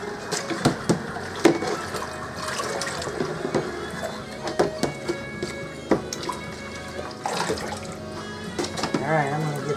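Water splashing and sloshing over sandy green beans in a bucket, with irregular rinsing and dripping sounds close by, under intermittent talk.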